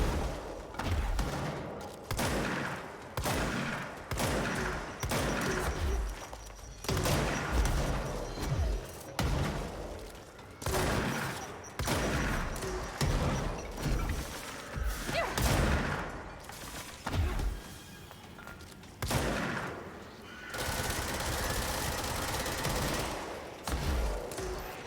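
Rapid minigun fire and heavy grenade-launcher blasts in the video game Control, loud and continuous, with dense bursts and thumping booms repeating throughout a chaotic firefight.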